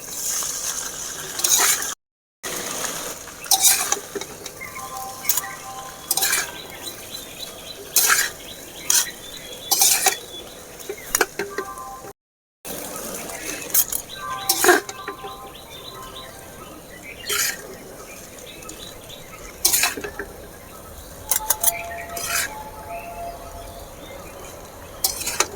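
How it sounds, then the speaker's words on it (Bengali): Chowmein being stirred and tossed in a pan with homemade chowmein masala, giving repeated scraping and clinking of a utensil against metal over a soft sizzle, with short pauses between bursts and no talking. "আগের থেকে বানিয়ে রাখা চাউমিন মশলা দিয়ে দেব। ভালো করে মিশিয়ে নেব।"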